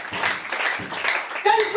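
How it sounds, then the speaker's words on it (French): A church congregation claps and cheers under a preacher's voice, dense applause filling the short stretch while speech carries over it. "Clap for Jesus Christ."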